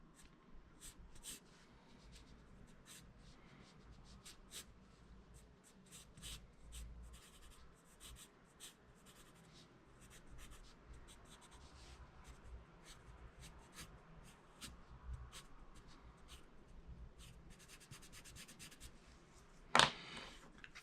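A Blackwing pencil writes on a tracing pad, producing faint, close scratchy strokes in an irregular rhythm of short bursts, with a single louder knock near the end.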